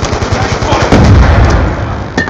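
In a video game, rapid gunfire rattles loudly up close, then a frag grenade goes off in a heavy, booming blast partway through as the shooting carries on around it.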